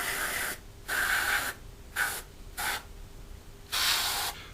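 An airbrush spray-painting a Hasegawa 1/48 Harrier GR7 scale model: four close, loud bursts of hissing spray, each one to two seconds long, separated by short quiet gaps.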